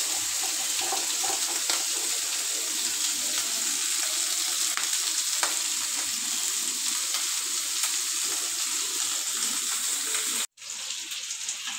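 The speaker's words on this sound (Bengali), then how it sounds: "এই তো আমি মাছটি হচ্ছে ভাজা নিতেছি" Hilsa fish frying in mustard oil with onion, a steady close sizzle and crackle running throughout, with a brief cut near the end before the frying resumes.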